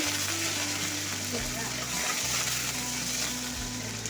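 Mustard seeds, dal, onion and curry leaves frying in oil, a constant crackling sizzle under a low steady hum, with sputtering pops and stirring throughout.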